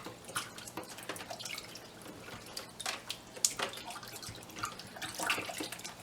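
Warm water trickles and drips continuously while a competition suit is washed by hand, with small splashes and a few sharper drips standing out. The sound is moderately quiet and has no talk over it.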